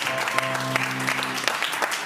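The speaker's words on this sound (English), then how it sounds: "Round of applause" At a live comedy game show, the audience gives a continuous round of applause, dense and steady throughout, with a sustained voice or tone briefly underneath.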